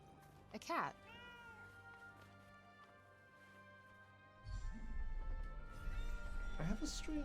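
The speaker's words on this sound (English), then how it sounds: "A cat." A cat meows in the game Forspoken, a short rising call early on and another near the end, clear and close over steady ambient music and background tones.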